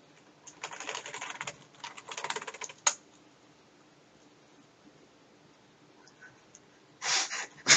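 Someone types on a computer keyboard to enter a character name in the game Lichdom: Battlemage, with quick clattering key bursts up close, a single sharp tap, a quiet pause, then another short burst.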